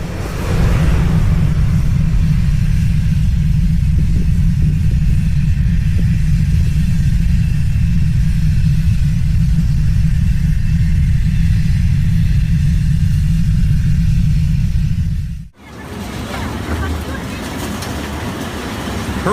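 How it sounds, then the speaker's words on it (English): Deep, continuous rumble from the 2011 eruption of the Shimodake volcano, loud and steady at low pitch for about fifteen seconds, then cutting off abruptly before a quieter roar resumes. "2011 eruption of Shimodake volcano"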